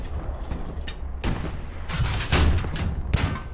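A tank cannon firing in Hell Let Loose, with booming blasts around 1.3 s, 2.3 s and a sharp crack near 3.1 s over a constant low engine rumble, loud and close.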